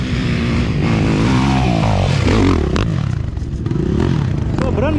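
Suzuki dirt bike engine working hard on a steep uphill trail at a trail riders' meet, loud and continuous with revving and clattering, voices briefly audible over it.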